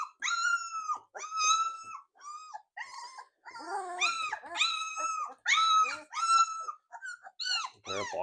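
Several Labrador Retriever puppies whimpering and yelping in high, clean bursts during their first bath, close and repeated in irregular runs with short pauses.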